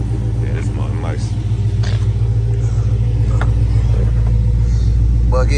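A 1971 Chevrolet Chevelle's engine idles with a loud, steady low rumble, holding close and constant throughout while voices talk faintly over it.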